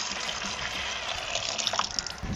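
Paint poured from a container during a house-painting job, a steady broadband liquid pour that runs continuously and stays close and fairly loud throughout, with no talking over it.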